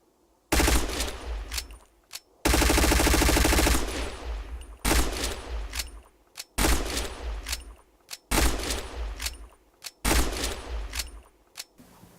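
MP7A1 submachine gun fired in the shooter game Black Squad: five or six sharp automatic bursts, each a second or so long, separated by brief silences, loud and close with no talking.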